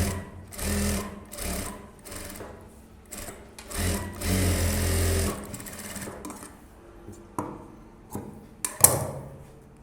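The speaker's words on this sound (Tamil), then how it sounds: "இப்போ நான் லைனிங் வெளியில் தெரியாமல் ஓரத்தில் தையல் போடுறேன்." A sewing machine runs close and loud, stitching along the edge of a blouse lining in a few sustained runs, then gives way to quieter clicks and fabric handling.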